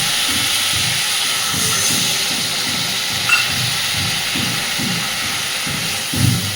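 Water added to hot fried masala in a pan for a fish curry gives a loud, steady hiss of steam throughout, with faint low bubbling underneath.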